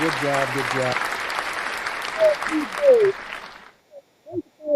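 Steady crowd applause rises and fades out over a few seconds, with a voice talking over it.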